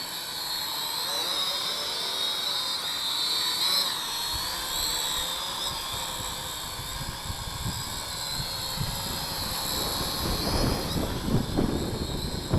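Skytech TK110HW drone flying in to land on a windy day, a steady high-pitched rotor whine hovering near, with wind buffeting and rumbling beneath it throughout.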